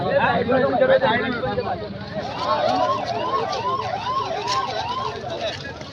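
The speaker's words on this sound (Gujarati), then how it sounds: "એમ્બ્યુલન્સ પણ આવી ગઈ છે" Ambulance siren wailing in a rising and falling pattern at a protest gathering, fairly near and continuous, with voices talking underneath.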